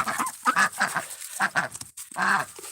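Ducks or geese honk and quack repeatedly as they are herded into an enclosure, loud and close, in several overlapping bursts.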